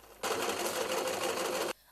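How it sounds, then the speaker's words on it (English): An electric sewing machine stitches fabric pieces for a clutch bag in a fast, steady mechanical run. It starts abruptly, holds an even whirring clatter for about a second and a half, then stops cleanly. "in this artistry, the sewing machine plays a very important role"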